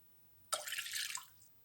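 Warm water pours briefly into a mixing bowl for crepe batter, a quiet, close splashing gush that starts abruptly, runs about a second and fades in an otherwise still kitchen.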